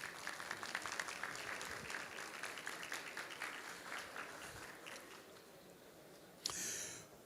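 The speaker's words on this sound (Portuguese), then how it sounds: "Uma salva de palmas, por gentileza." A conference audience applauds a panel speaker, moderate clapping that gradually thins out and fades, followed near the end by a brief loud rustle or hiss close to the microphone.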